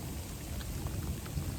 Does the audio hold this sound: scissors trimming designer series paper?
no